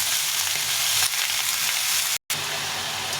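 Mixed vegetables for a vegetarian chorchori frying in a pan with just salt and turmeric, a steady close hiss of sizzling broken by a brief instant of silence.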